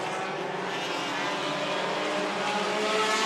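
Race cars roar together around the oval at Stockton 99 Speedway, a loud, steady, continuous engine drone at close range with no pause.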